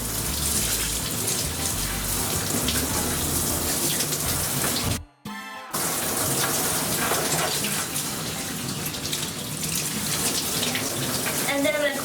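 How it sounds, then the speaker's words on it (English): Running water splashes steadily as a Shih Tzu's face is rinsed of shampoo by hand during a bath, a continuous close wash with a brief pause midway. "So I'm just using my hand to kind of rinse off what's on her face."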